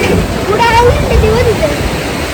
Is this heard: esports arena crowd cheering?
no